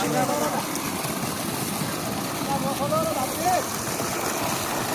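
Steady rushing water gushing from a new borewell pump, a broad wash throughout, with people talking and calling out over it outdoors.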